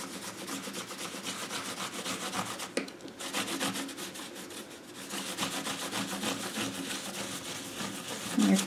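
A baby wipe rubs back and forth over a stencil on paper, a steady close scrubbing texture with rhythmic strokes and a brief pause midway.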